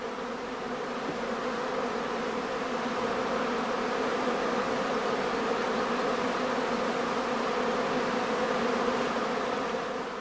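Honeybees swarming at the flight entrance of a straw skep hive, a dense, steady buzzing hum from many insects, close and continuous throughout with no voices.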